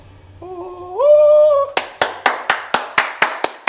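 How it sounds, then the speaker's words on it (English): About nine loud, close hand claps land in an even, quick rhythm in a kitchen under renovation, right after a brief rising tonal hum. "A round of applause for everybody."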